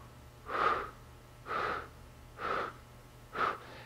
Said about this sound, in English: you clench your stomach muscles, breathing out in succession